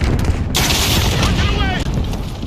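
A video-game cruise missile strike erupts as a dense, loud rumbling explosion with crackling bursts of gunfire mixed in, sustained and close, with a game voice speaking over the chaos.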